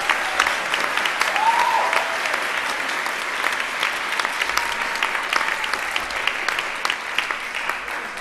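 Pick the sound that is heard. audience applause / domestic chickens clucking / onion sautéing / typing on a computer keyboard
audience applause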